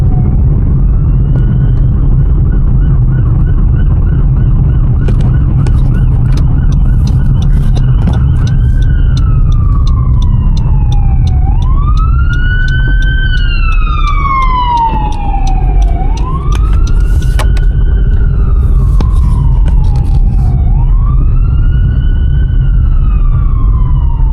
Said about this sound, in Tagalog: Yan dito pagka may emergency siren, kailangan mong tumabi.